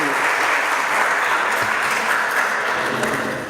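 A scientific conference audience applauds steadily in a hall, a dense, sustained wash of clapping that holds even and loud for several seconds before easing slightly at the end.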